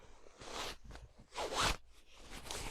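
A zipper on a bright yellow sleeping bag is pulled open in a few short raspy strokes, close and fairly quiet, with one longer louder pull in the middle.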